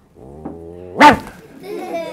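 A voice imitates a dog's bark with one sharp, loud yelp, set between stretches of his ordinary speaking voice close to the listener.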